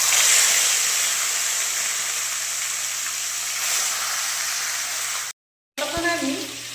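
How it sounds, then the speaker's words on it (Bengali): Pieces of fish frying in hot oil, a steady loud sizzle running throughout, briefly cut off near the end before resuming with a clatter. "আচ্ছা, তেল গরম হয়ে গিয়েছে, এবারে এক এক পিস মাছ আমি ভেজে নেব।"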